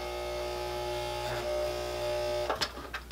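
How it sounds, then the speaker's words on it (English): Sewing machine top stitching around the edge of a fabric bag handle cover, a steady close mechanical whir and hum that breaks into a few uneven clicks near the end. "we're going to top stitch all the way around"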